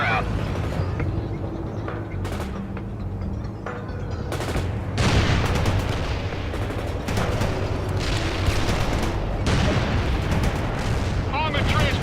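Artillery fire rumbles in a strategy video game as a heavy barrage of booms and blasts, with several sharp impacts standing out over continuous rolling explosions and background battle noise.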